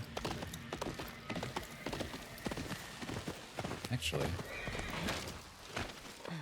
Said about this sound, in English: Come on, horse, you can run over the frozen sea.